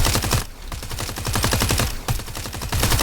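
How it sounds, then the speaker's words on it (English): Rapid automatic gunfire from shooting bots in FragPunk aim warm-up, a video game, with dense continuous bursts and one brief pause, loud and close. "what you want to do is you want to shoot these bots"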